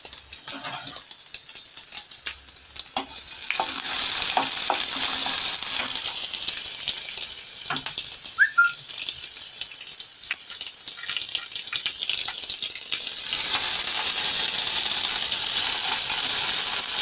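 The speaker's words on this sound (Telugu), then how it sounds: "చట్నీలో వేసుకున్నామండి పోపు" Cumin, coarsely crushed garlic and dried red chillies sizzle steadily in hot oil as a tempering for a raw mango and ginger chutney, a continuous bright crackle with a few clinks, close and fairly loud, with no talking.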